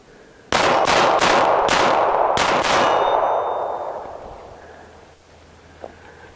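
Glock 42 pistol in .380 ACP fired rapidly at an outdoor range: about six sharp, loud shots in quick succession, followed by a ringing echo that fades away, then quiet.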